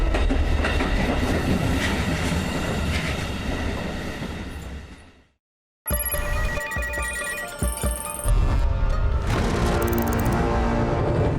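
A train rumbles loudly through a railway station that once carried deportees from the Baltic states toward Siberia. Clattering rolling noise cuts briefly to silence, then returns with ringing bell-like tones and continued rumble, with no talk.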